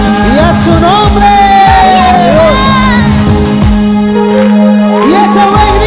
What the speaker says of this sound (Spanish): Y ese buen grito de júbilo.